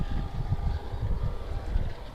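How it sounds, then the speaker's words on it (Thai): Strong wind buffets the microphone on a mountain top at Doi Mon Cham, Mon Lan View, Chiang Mai, a steady low rumbling roar with gusty swells throughout. "แสงก็แรงแต่ว่าข้างบนเนี่ยมีลมแรงก็เลยค่อนข้างอากาศเย็น"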